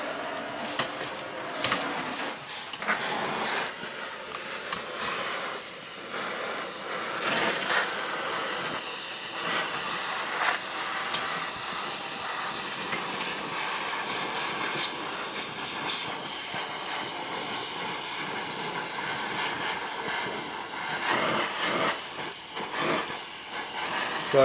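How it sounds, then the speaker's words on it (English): A torch flame hisses steadily while heating metal for a hollowform piece, a continuous close broadband roar with faint fluctuations and no talk. "And then I'll just use torch heat"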